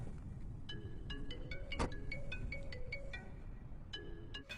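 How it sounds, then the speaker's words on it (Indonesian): An electronic ringtone plays a repeating melodic pattern of bright tones over a steady low rumble, a phone ringing inside a car's dashboard while the car runs. "Tiba-tiba Pak Lee mendengar telepon berdering di dalam dashboard mobilnya"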